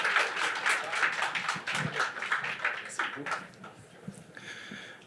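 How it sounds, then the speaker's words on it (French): Audience applause at a museum's inaugural evening greets the opposition leader as he comes up to speak, a moderate patter of clapping mixed with murmuring voices that thins out toward the end. "Une ronde d'applaudissements pour lui."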